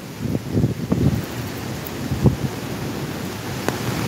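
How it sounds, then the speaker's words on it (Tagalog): Strong storm-surge wind buffets the microphone at a port in Nato, Sagñay, Camarines Sur, roaring steadily with gusty low rumbles and a few sharp thumps throughout, with no voices. "Kasi malakas po ang hangin."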